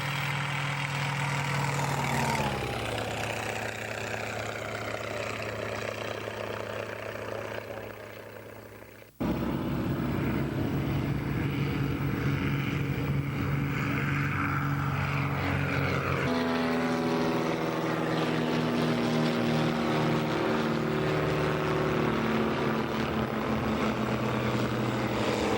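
Propeller engine of a German wartime fighter plane, a Focke-Wulf, droning steadily and loudly, with pitch shifts as it flies past and a sharp change partway through.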